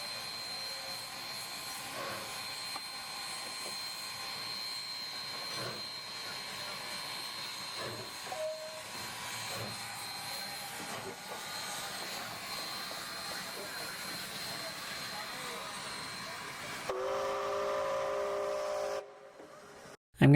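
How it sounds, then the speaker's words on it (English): Steam hisses steadily from the cylinder drain valves of steam locomotive 2816 Empress, a continuous broad rushing roar held for most of the stretch, then a louder surge near the end before cutting off. "the engineer opens those valves one last time just to make sure there's nothing but steam coming out of them"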